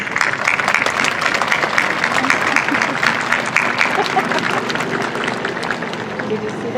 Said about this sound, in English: please join me in a big round of applause to thank your families and your parents